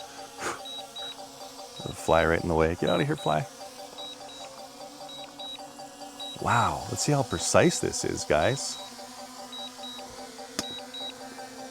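Short, evenly spaced high electronic beeps from a SkyRover X1 drone's obstacle sensors repeat steadily across the clip beneath someone talking, with a faint motor whir in the background.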